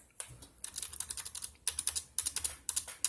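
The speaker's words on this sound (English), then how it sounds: "Type my name and put the date here." Quick bursts of keystrokes on a computer keyboard as a name is typed, close and crisp, in uneven clusters with short pauses between them and no voices.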